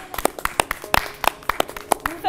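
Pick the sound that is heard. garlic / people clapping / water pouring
people clapping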